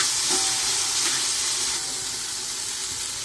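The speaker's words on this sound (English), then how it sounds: "So let's saute this ginger garlic paste." Ginger garlic paste sautes in a hot pan for a chicken curry, giving a steady bright sizzle and hiss with faint stirring scrapes, close and continuous with no voices.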